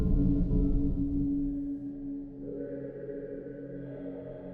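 A synthesized Starcraft Zergling creature sound effect built in Logic Pro X, a growling, textured low rumble with shifting tonal layers that thins out midway, heard alone without any talk.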